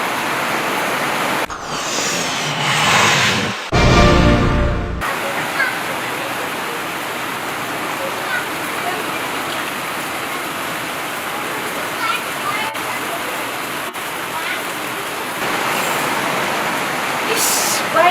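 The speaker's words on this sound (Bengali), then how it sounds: "ইস, বাইরে প্রচন্ড বৃষ্টি।" Heavy rain pours outside in a steady, broad hiss that runs throughout, briefly covered near the start by a few louder bursts of noise.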